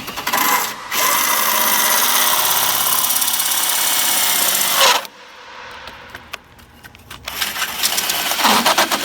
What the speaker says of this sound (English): you put your metal drill bit on reverse setting